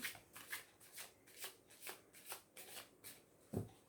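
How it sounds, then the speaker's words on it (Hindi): A deck of tarot cards is shuffled by hand, giving a quiet run of soft, rhythmic riffling bursts close to the listener, ending in a slightly firmer tap. "पहले मैं कार्ड्स को शफल कर लेती हूँ अच्छे से।"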